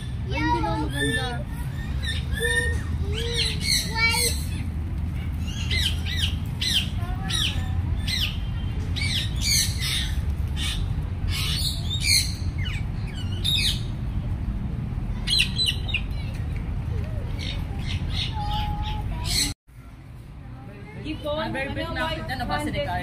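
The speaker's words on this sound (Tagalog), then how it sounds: "Bird." Birds at a wildlife park chirp and squawk in frequent sharp bursts over a busy background of children playing and people talking, with the calls fairly close and overlapping the chatter.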